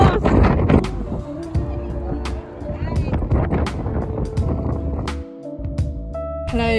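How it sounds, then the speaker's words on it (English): Strong gusty wind on a high spot near a bridge in California roars and buffets close to the microphone throughout, a heavy rumbling rush with a few sharp clicks and faint, indistinct voices underneath. "it's so windy up here."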